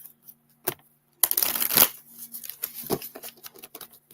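Playing cards are riffled in a quick crisp burst, then a few lighter flicks and taps follow, close and fairly loud.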